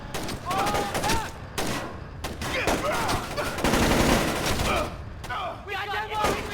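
Bursts of automatic gunfire in Splinter Cell: Chaos Theory crack repeatedly in uneven volleys, loud and near, while voices shout over the shooting.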